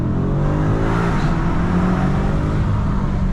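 A 2023 BMW M5 Competition rated at 625 hp accelerates past with a loud, continuous engine roar and rising harmonic whine, sustained throughout without a break.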